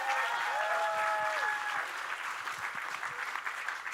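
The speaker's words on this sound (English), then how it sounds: "so we can give her a massive round of applause" Room audience applause at the Future Anything National Grand Final, a burst of clapping with a brief cheer at the start, steady then slightly thinning, fairly quiet overall.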